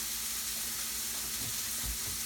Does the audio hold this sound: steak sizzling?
yes